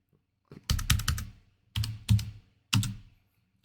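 Someone types on a computer keyboard while working in 3D modeling software, close and clear, in quick clustered bursts of keystrokes separated by short pauses.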